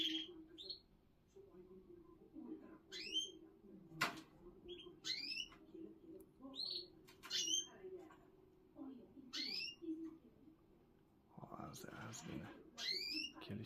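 A canary sings in unusual voices, giving repeated quick rising chirps and short trills that are faint and spaced out, over a low hum with occasional talk nearby.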